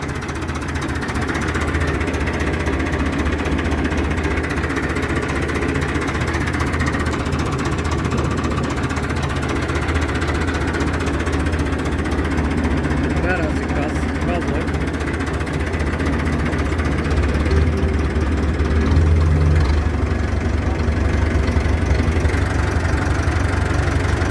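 A Massey Ferguson 265 tractor's diesel engine runs steadily at close range, a constant low rumbling drone with a slight rise near the end as the clutch is let out slowly.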